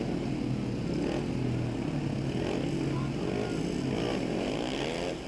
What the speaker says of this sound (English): green lights on, bikes are revving